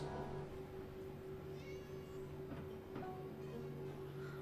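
Cartoon cat meowing, a few faint mewing calls over a steady tonal hum and background noise, quiet and fairly distant.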